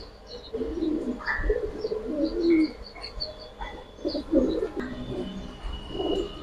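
Pigeons cooing nearby in soft repeated low calls, several overlapping coos with occasional higher chirps over faint background noise.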